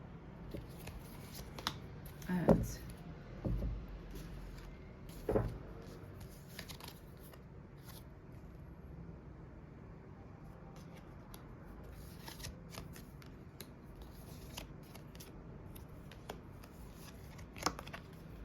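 Tarot cards shuffled and drawn, giving soft riffling and papery slaps with a few sharper card snaps near the start, close and fairly quiet with no talking.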